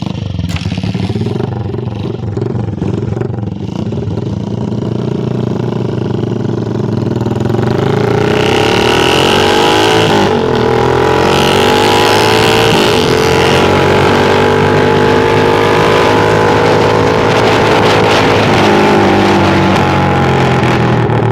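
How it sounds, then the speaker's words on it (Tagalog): A motorcycle with a loud aftermarket exhaust pipe idles with a deep rumble, then revs hard and holds high through the pipe, very loud and close, with no talk. "So tingnan natin kung gaano talaga kalakas yung pipe niya."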